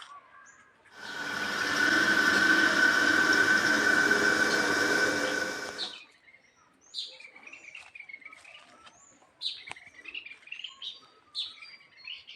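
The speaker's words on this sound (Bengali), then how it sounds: "পাখির ডাক শুনতে পাচ্ছি" A steady burst of broad hiss fills the first seconds in a jungle at midday, then faint, scattered bird chirps and calls follow in the quiet.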